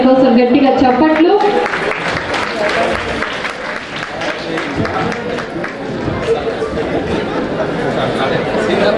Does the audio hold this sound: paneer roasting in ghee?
no